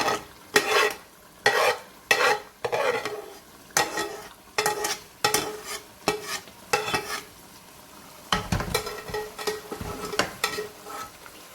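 Lightly fried cauliflower is stirred into a meat curry in a pan, with a run of loud, uneven scraping and stirring strokes over a soft sizzle and a brief clatter of the spoon near the end.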